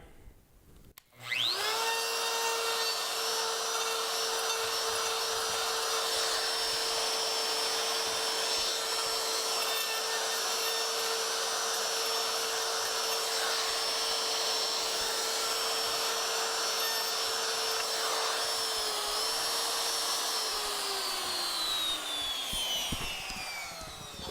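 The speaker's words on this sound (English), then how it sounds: "all I've got here is an 1/8 inch round over bit, already set up, DeWalt router" A loud, steady high-pitched whine from a DeWalt router with a 1/8-inch round-over bit shaping a wood edge, running nearly continuously, starting abruptly and tapering in pitch as it spins down at the end.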